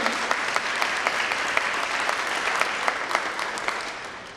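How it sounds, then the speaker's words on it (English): A school board awards audience applauds a student honoree, steady moderate clapping with individual claps standing out, no talking, tapering slightly at the end. "We can pause for a moment and applause for Molly"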